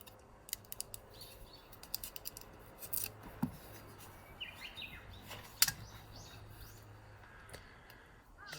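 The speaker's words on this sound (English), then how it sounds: "I'm going to cut this one in half." A knife cuts a purple potato in half, giving faint scattered clicks and scraping taps against a quiet background, with a sharper snap near the end and no speech.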